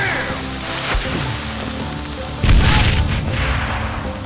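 Cannon shot in the video game Call of Juarez Gunslinger, a heavy booming blast followed by a rumbling, crackling impact, layered over a continuous background of game sound.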